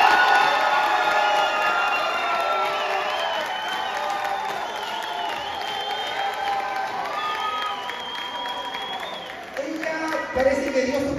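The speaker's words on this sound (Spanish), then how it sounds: "fuerte el aplauso para Gia Pinguín" Crowd at a nightclub talent show cheering and applauding a contestant, a loud sustained roar of shouts and whoops with clapping, as music and voices rise near the end.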